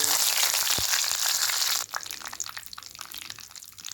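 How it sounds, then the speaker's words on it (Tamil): Mustard seeds crackle and sizzle in hot oil in a pan, a dense bright hiss that is loud at first, then drops to a lighter, uneven spatter of pops with no talking. "எண்ணெய் சூடாயிடுச்சு இப்போ நம்ம கடுகு போட்டுடலாம்"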